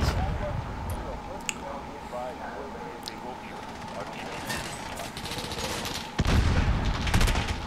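Rapid gunfire from a weapon in the Modern Warfare Beta video game, dense crackling bursts running nearly throughout and growing heavier near the end, with voices talking over it.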